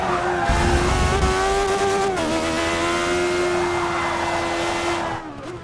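A Caparo T1 race car in Forza Motorsport 6 holds a loud, steady engine tone while its tires squeal and slide under braking, close up for several seconds before the noise drops away near the end.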